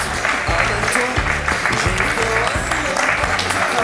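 Studio audience clapping steadily on a French television talk show, dense sustained applause with a few louder individual claps mixed in over faint background voices.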